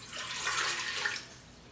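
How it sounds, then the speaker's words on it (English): Water is poured in for homemade pizza dough, a short splashy gush that swells and then tapers off, close and alone. "I'm just pouring my water in."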